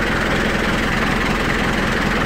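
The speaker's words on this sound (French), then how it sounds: "Donc là, il ronronne bien le moteur." A car engine idles while a thermal descaling treatment runs through it, an even low purr with fine rhythmic pulsing, close and steady.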